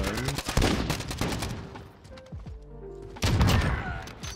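Call of Duty match with grenade explosions and gunfire: a cluster of sharp rapid shots and booms, then a quieter stretch of thuds and echoes, then another loud burst of fire near the end.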